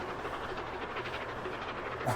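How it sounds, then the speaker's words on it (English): A steam train rolling past in the Transport Fever 2 video game, a steady dense rumble with a faint rhythmic chuffing and hiss, continuous throughout without any speech. "here this train is going to go past"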